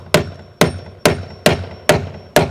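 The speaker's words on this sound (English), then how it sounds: "So easy fix for that is just get a hammer and just nail it down." A hammer drives a nail into a garage door seal with six evenly spaced, sharp, ringing strikes, close and loud, with no talk.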